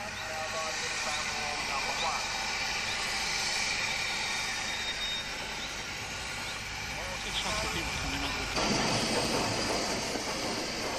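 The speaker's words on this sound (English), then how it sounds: "the train arrives at the station with a heavy load of passengers" A steam train hauling a heavy passenger load pulls into Horsted Keynes station after a long, steep climb, a steady rumbling wash of rolling stock with rising clatter near the end, voices talking over it.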